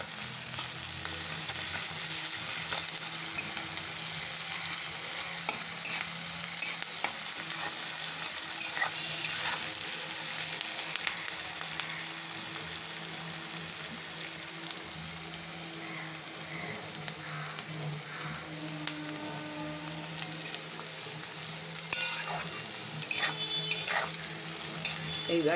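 Onions sizzle and fry in a pan with salt while being stirred, a continuous crackling hiss with occasional scraping of the utensil against the pan, close up.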